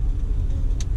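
Inside a car stuck in Manila traffic, a low, steady road and engine rumble fills a brief moment, with a faint higher tick near the end.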